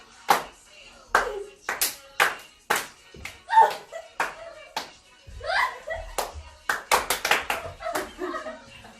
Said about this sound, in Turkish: Siz o sırada alkışlayacaksınız